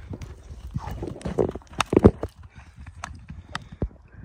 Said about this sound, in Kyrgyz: Каттуу кетти го ат.